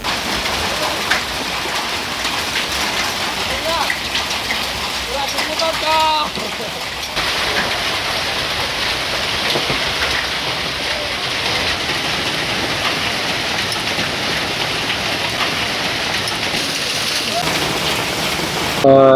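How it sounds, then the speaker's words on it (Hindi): A heavy downpour with hail in Reasi, Jammu and Kashmir hisses as a dense, steady roar from start to finish, loud and close, with a brief faint voice partway through. "आज तेज बारिश के साथ साथ ओले भी पड़े"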